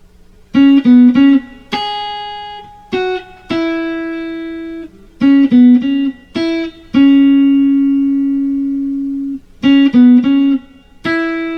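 A clean single-note guitar melody from a song's bridge, plucked notes in short groups with a few held tones, close and clear with no voices.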